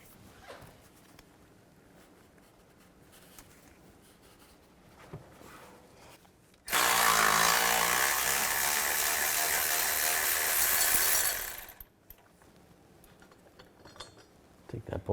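A socket wrench with a pipe for leverage works an 18mm engine mount bolt loose on a 2011-2019 Dodge Grand Caravan, a long loud grinding burst between quieter scattered clicks and handling noises.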